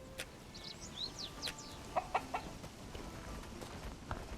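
Chickens in the Bellwright video game cluck in short, scattered bursts over a faint ambient background, with a couple of sharper clucks clustered near the middle.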